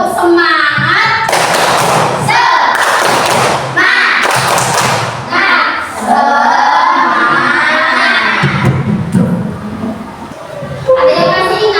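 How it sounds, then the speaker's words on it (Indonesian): A classroom of children repeats the 'tepuk semangat' spirit-clap chant, loud synchronized clap bursts mixed with a crowd of young voices shouting and cheering the chant. "Satu kali lagi dong, tepuk semangat."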